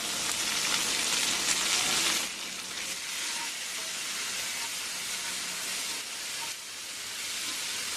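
Ginger garlic paste frying with onions and tomato in a pan, a loud, steady close-up sizzle and hiss that eases slightly after a couple of seconds and then continues unbroken.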